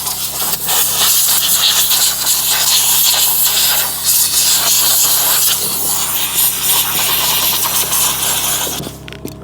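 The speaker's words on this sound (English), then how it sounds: "what I tend to do is always just kind of steam those off, or at least start getting them loose" A steamer blasts residue off the interior of a Toyota Corolla being detailed, giving a loud, continuous close-up hiss that holds steady for several seconds before cutting off abruptly.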